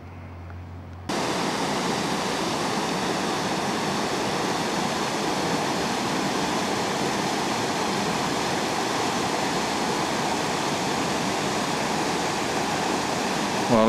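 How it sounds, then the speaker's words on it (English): The Virgin River flows in a loud, continuous rush of water, starting after a brief quieter moment and holding steady with no voices. "river running through here. This is the Virgin River."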